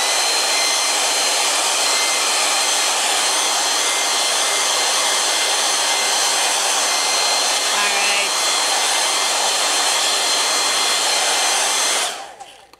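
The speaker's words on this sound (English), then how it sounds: "Now this still isn't fully dry, so I'm going to actually use a hairdryer" A hair dryer blows loudly and steadily over a watercolor painting as a continuous broadband whoosh, cutting off abruptly near the end.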